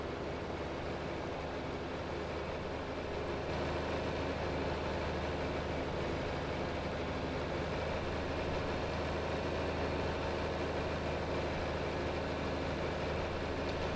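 A small tractor engine runs steadily in a farming video game, a continuous low droning rumble with an even, unchanging tone, heard alone and fairly prominent throughout.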